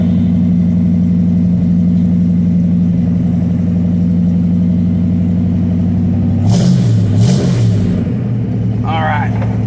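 A car engine that has just fired up runs steadily at a loud, close idle, its deep hum continuing throughout, with a brief burst of handling noise and a faint rising whine near the end.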